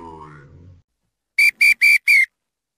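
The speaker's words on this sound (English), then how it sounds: "When the referee blew his whistle," A referee at a March Madness basketball game blows four short, sharp whistle blasts in quick, even succession, loud and close, after a brief voice.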